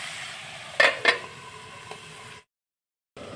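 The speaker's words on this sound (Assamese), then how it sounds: "এনেদৰে মাজে মাজে অলপ লৰাই দিম আৰু মাজে মাজে ঢাকি দিম।" Chicken curry being stirred in a pan: a couple of sharp scrapes of a spoon against the pan over a steady sizzle, close and alone, then a short break before the sizzling resumes.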